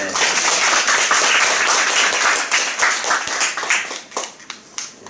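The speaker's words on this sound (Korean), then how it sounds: "우리 박수 한번 할까요?" Church congregation claps for a Gloria vocal ensemble at a Korean healing and evangelism revival meeting, dense and steady clapping that thins and breaks into scattered claps toward the end.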